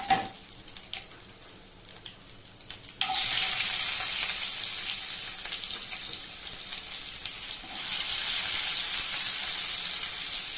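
Onions sautéing with garlic in a pan for a Tamil pakoda kuzhambu gravy: a quiet sizzle and faint stirring at first, then a loud, hissing fry surges as the onions go in, holding steady and rising again near the end.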